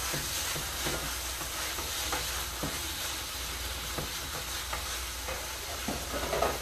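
Tomatoes and cilantro cook in a hot pan, giving a steady, loud sizzle and hiss throughout, broken by faint scraping stirs.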